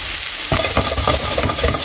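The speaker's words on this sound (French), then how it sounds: "du gingembre émincé grossièrement, de l'ail qu'on va faire roussir" Coarsely chopped ginger and garlic browning in leftover oil in a pan, a dense close sizzle with stirring scrapes, no voices.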